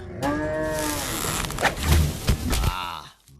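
A cartoon cow moos loudly and at length while a tiger chases it in a Krishna animation set in Vrindavan. The calls are near and strained, with a few thuds and clatter layered over them.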